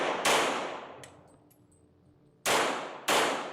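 Three sharp pistol shots in controlled pairs at a paper target on a defensive shooting range, one lone crack then a quick double about half a second apart, loud and close with ringing decay between.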